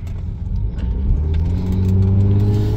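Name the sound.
Mitsubishi VR-X car engine accelerating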